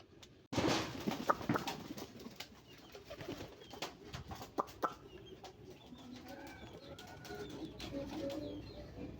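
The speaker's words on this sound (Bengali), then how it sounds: "ইল্লু কবুতর।" Domestic pigeons coo and flutter close by in a rural Bangladeshi setting, with soft repeated calls, wing flaps and clucking bird sounds over steady outdoor ambience and no talking.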